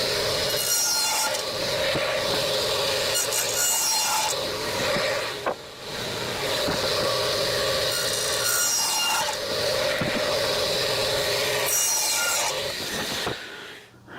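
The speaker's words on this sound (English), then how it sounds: "So we'll go ahead and throw that into the saw." A saw cuts through wooden boards for a sign, a loud, close, continuous rasping and whirring that holds steady for over thirteen seconds with brief dips between passes.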